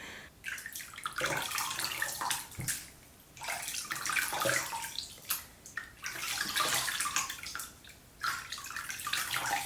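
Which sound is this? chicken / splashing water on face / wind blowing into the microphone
splashing water on face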